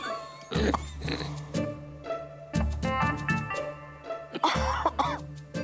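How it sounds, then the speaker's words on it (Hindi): An elderly woman coughs repeatedly in bursts, fairly close and loud, with short pauses and throat-clearing sounds between the coughing fits. "खांसी की आवाज आई थी, मैंने भी सुनी।"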